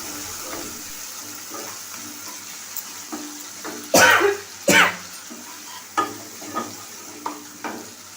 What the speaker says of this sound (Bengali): একটু সামান্য পরিমাণে জল দিয়ে নিলাম যাতে মশলাটা পুড়ে না যায়